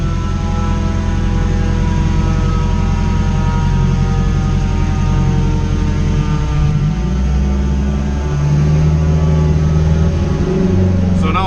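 A turbocharged Acura RSX engine drones steadily on a dyno at high load, a loud sustained mechanical roar with its pitch shifting partway through as the revs change.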